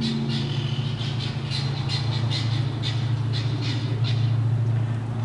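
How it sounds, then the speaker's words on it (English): Visiting guinea fowl give repeated harsh squawking calls in a steady series over a constant low engine-like hum, moderately distant, with no talking. "we have some guinea fowl visiting from the neighbors."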